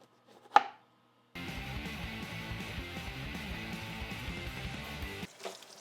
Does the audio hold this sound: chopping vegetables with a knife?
yes